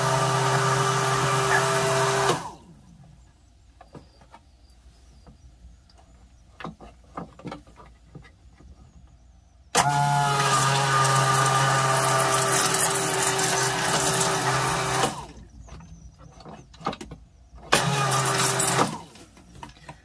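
An electric water pump controlled by a float switch runs in loud, steady droning bursts, cutting off and restarting twice, with quieter clicks and handling noise in the gaps between runs.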